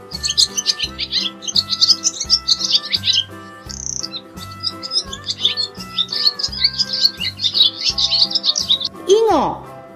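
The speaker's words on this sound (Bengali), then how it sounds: "ঘয়ে ঘুঘু পাখি ডাকছে গাছে।" A dove calling from a tree comes through as bright, repeated bird chirps and tweets that run almost without pause over a steady, beating backing tune, with a brief swooping call near the end.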